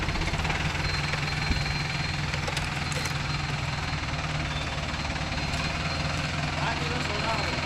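A Mahindra Arjun Novo 605 DI tractor engine runs steadily with a loud, continuous diesel rumble in a coconut grove, while people talk over it.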